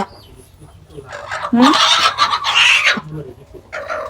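A chicken about to be slaughtered squawks and clucks loudly up close in a few agitated bursts, with short quiet gaps between calls.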